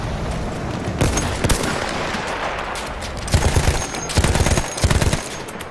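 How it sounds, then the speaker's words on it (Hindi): Gunfire from the Battlefield 1 World War I campaign: dense bursts of rifle and machine-gun fire crackle over a continuous battle din, with loud volleys around the middle and end. "दस लोगों ने मेरे ऊपर गोलियां चला दी वहां से"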